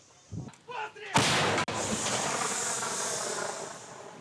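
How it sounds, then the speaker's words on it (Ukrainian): A 2S1 self-propelled howitzer fires one booming, sharp blast, followed by a long rushing hiss and rumble that fades slowly, after a few muffled voice sounds. "Самохідна артилерійська установка 2С1 як рідна."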